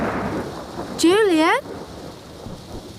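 Heavy rain and a rolling thunder rumble in an animated storm, with a voice briefly calling out over the downpour.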